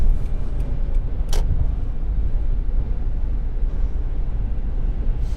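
Steady low cabin rumble inside a 2015 Subaru Forester 2.5i as it merges onto a highway, with road and engine drone holding constant and a brief sharp click partway through, no speech.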